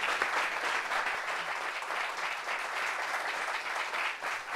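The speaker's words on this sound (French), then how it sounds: "Applaudissements." A studio audience claps for an arriving guest at a talk show, a dense, steady round of applause lasting several seconds.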